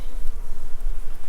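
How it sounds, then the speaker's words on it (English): Honeybees hum in a dense, steady swarm around an open hive as a colony is split into nucleus boxes, close and continuous with no talking. "The amount of bees on the wall here though, that's mad"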